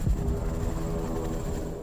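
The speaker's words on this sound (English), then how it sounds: "hook it to a helicopter, which descends to as low as 8 feet off the ground during the operation" Helicopter hovering low during Army sling load training, a steady loud thrumming rotor drone with a rapid low beat throughout.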